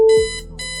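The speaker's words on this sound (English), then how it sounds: "That's when it happened. The alarm," An alarm goes off in a cartoon animation: a bright, steady electronic beeping tone with sustained harmonic layers, loud at the start and continuing through a short burst without any speech.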